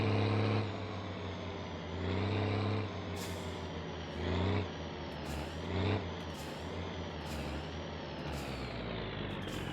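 A truck engine in the video game My Winter Car held near redline, a loud sustained droning whine that swells and dips several times, with hissing bursts like air brakes near the end.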